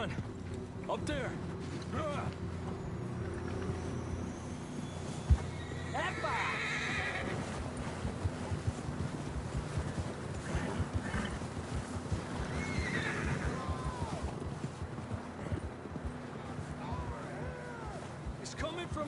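Horses snort and whinny over the steady clip-clop of hooves in Red Dead Redemption 2, with wind and ambient noise filling the background and voices talking at times.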